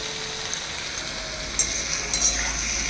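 Chopped onions sprinkled with a spoonful of salt are stirred in a pan, with a steady frying hiss and a couple of brief scraping strokes near the end, close and moderately loud, with a low rumble beneath.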